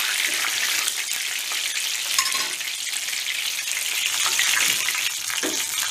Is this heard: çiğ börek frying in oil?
yes